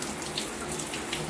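Water rushes steadily from a repaired Moen shower and tub valve, a brief continuous hiss of running water with no voices.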